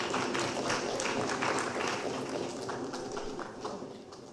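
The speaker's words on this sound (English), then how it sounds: "ladies and gentlemen, please, a round of applause for the team that came in fourth place" Audience applause at the Hogwarts Debate 2019 grand finale for the fourth-place debate team, a dense, steady wash of many hands clapping that holds for several seconds and then eases slightly toward the end.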